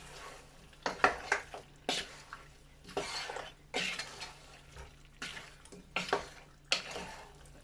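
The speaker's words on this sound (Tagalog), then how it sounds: "Haluin natin ulit." A spoon stirs chicken with butter, garlic and a little sugar in a cooking pot, making repeated soft scraping and clinking strokes in an irregular rhythm over a low background hum.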